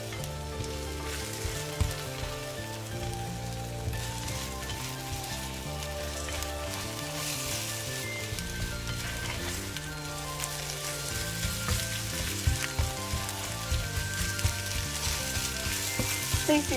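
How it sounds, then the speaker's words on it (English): Egg is lightly scrambled in a hot pan, a continuous close sizzle and crackle with gentle stirring and spatula scrapes that grow a little louder toward the end. "So just lightly scramble the egg."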